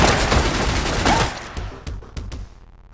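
Turret gunfire in the game Receiver: a dense, loud stream of automatic shots that breaks off and gives way to a few scattered, separate reports before fading.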